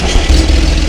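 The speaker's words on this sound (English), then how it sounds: "Let's do a cold start on this new engine." A new Porsche 911 Turbo S hybrid engine cold-starting in a car park settles into a steady, close, low rumbling idle for a brief moment, with no talking.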